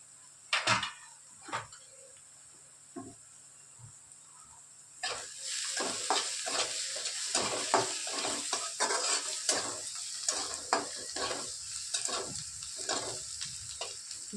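Onion, garlic and homemade spice masala with coriander powder, red chilli and turmeric sautéing in a pan, a quiet sizzle broken by a few scrapes, then a steady louder sizzle with repeated stirring scrapes and clinks.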